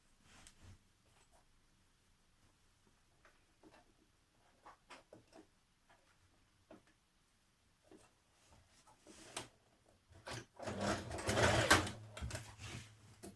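A domestic sewing machine stitching the centre back seam of lounge trousers, with scattered faint ticks and handling clicks at first, then a louder burst of fast, close machine whirring near the end.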